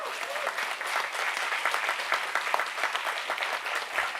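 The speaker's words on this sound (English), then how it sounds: "if you'll all join me in applauding these great central bankers" Steady applause from the audience at a business school graduation convocation, moderately loud and continuous, a dense patter of many hands clapping without voices over it.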